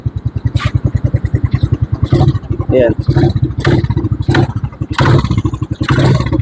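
A Suzuki Raider 125 motorcycle engine runs close by with a fast, throbbing idle, then is blipped with the throttle several times for short revs, while someone talks over it.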